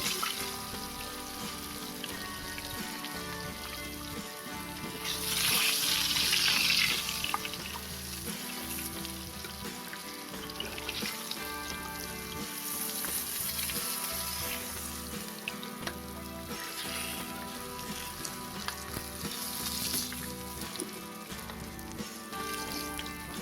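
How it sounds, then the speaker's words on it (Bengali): A long, steady sizzle of pangas fish frying in hot oil runs throughout, swelling louder for a stretch, with a faint tonal hum underneath. "মাছগুলো এরকম এপিট ওপিট লাল লাল করে ভাজা করে নিতে হবে।"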